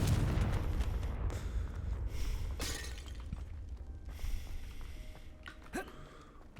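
A Confringo blasting spell goes off in Hogwarts Legacy with a heavy boom and shattering crash up front, then a lingering rumble with scattered debris clatters and small impacts.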